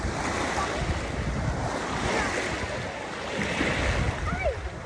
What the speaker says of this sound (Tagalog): Malakas yung alon guys.